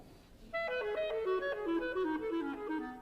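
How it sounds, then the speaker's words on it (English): A solo clarinet plays a lilting, clearly articulated melody in 6/8 time from Holst's The Planets, a sequence of distinct notes stepping downward, quiet and alone after a brief silence. "Here's a clarinet playing in 6/8 time."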